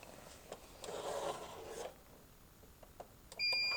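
A GameLink Excel receiver for a clay pigeon shooting trap controller is paired by swiping a magnet over it. A soft rubbing scrape is followed by quiet ticks, then a sharp, clear electronic beep at the end.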